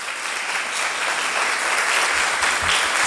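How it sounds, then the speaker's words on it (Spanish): An audience at a Spanish-language health meeting breaks into applause for a doctor, a thick, even wash of many hands clapping, fairly loud and sustained with no speech over it. "un aplauso para él."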